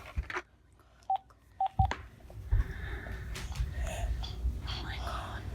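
A telephone keypad gives a few short separate dial tones near the start, followed by rustling handling noise and hushed whispering.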